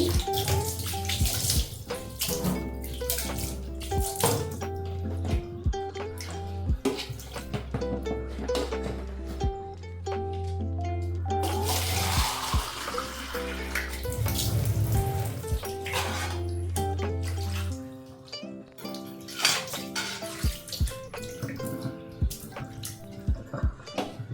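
Tap water runs steadily while a kitchen tap is scrubbed clean during dishwashing, with a close, continuous splash and trickle broken by short clinks and handling knocks.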